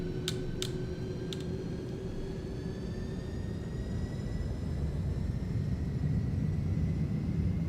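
Simulated iniBuilds A310 airliner engines spool at takeoff thrust in a flight simulator game: a loud, steady low rumble with whining tones that slowly rise, heard alone without talk.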